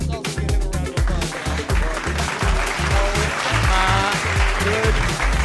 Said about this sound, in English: Let's also give him a round of applause.